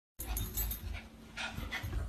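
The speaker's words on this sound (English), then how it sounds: "can you stop breathing so loud" A dog pants loudly and close by in fast, heavy breaths that continue steadily with a few brief pauses.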